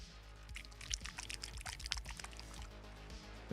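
Model paint bottles being shaken before airbrushing, a quiet, close burst of rapid rattling clicks lasting about two seconds, with no talking.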